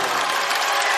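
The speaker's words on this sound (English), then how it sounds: "They applaud the senior." Fans at a high school basketball district final, Archbold versus Liberty Center, applaud a senior walking to the free-throw line, a dense, steady wash of clapping from the crowd filling the gym.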